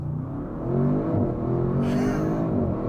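An Audi RS6 Performance wagon accelerates hard from a launch, its engine note climbing in pitch and growing louder, heard from inside the car with no talking.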